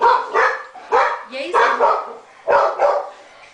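Dogs bark in a quick series of sharp, close yips and woofs, repeating in bursts with short pauses between.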